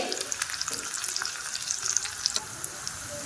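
Chopped green chillies and cumin crackling in hot oil in a small tadka pan for a cucumber salad, a steady bright sizzle with scattered sharp pops throughout.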